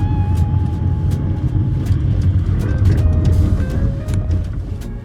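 A car's manual transmission filled with molasses as it is shifted into gear, giving a steady loud engine drone with faint whining tones and a few clicks across it.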